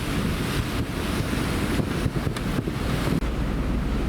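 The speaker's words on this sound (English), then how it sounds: "on a wet and windy day" Steady, roaring wind buffets the microphone over the wash of waves aboard a liquefied-natural-gas-powered ferry crossing the Firth of Clyde on a wet, windy day, with no voices.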